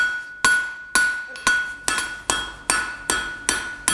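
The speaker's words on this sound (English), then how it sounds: "We can drop the angle of the hammer slightly and work towards that center section." Hammer striking a steel set eye hook on an anvil during hand forging, with about nine sharp, evenly spaced metallic blows that ring briefly after each hit, close and loud with no talk.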